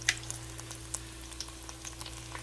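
Baby bella mushrooms deep frying in oil give a soft, continuous sizzle with scattered small pops and crackles, quiet and close, with a steady hum underneath.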